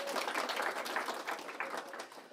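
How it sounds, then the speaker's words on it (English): An audience at a national pitch-competition final applauds in a brief, fairly soft burst of scattered clapping that stays even throughout. "Let's applaud to this"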